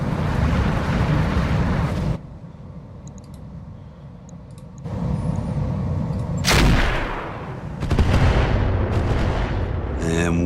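Missiles and heavy weapons fire in the RogueTech mech video game, with bursts of booming blasts and crackling impacts separated by a quieter lull, loud and layered over game ambience.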